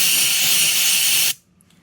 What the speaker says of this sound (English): Take your air compressor and then blow around the thread.